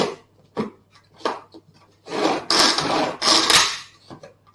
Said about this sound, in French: en quelques coups de ficelle, les courgettes sont hachées